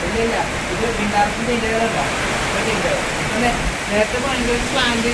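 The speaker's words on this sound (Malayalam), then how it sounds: "കാറ്റുകൊണ്ട് മഴ പറന്നു പോണേന്ന്" Heavy rain driven by wind, a loud continuous roar and rush close by, with people talking over it.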